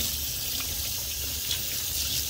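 Water runs steadily from a tap or sprayer while a teddy guinea pig is bathed, making a constant close hiss and splash without pause and with no voices.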